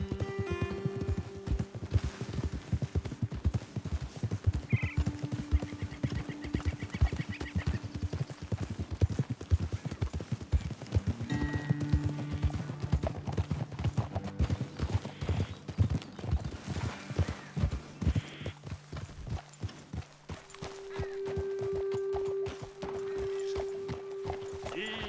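Horses walk with steady hoof clip-clops on a trail in the game Red Dead Redemption 2, a few snorts and whinnies mixed in, footfalls close and rhythmic as riders move along and then slow near a roadside ledge.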